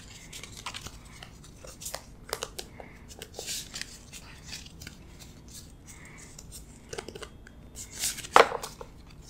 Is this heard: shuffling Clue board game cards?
yes